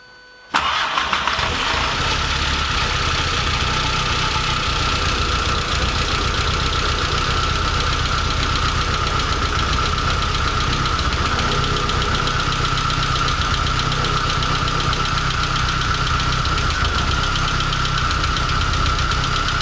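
A Porsche 924 S Turbo engine catches after a brief silence and keeps running roughly at a steady idle, a loud, close mechanical clatter with uneven knocking throughout.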